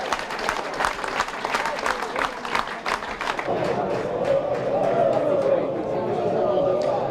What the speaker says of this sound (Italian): Applausi per l'Akragas